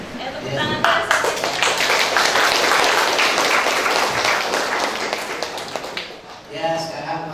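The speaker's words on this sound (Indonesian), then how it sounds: "Tepuk tangan keras." An audience at an Islamic gathering on the history of Al-Muhajirin claps loudly, a dense burst of many hands lasting several seconds, with a voice speaking just before it starts and again as it dies down.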